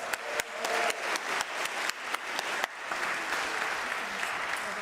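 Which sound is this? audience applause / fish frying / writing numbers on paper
audience applause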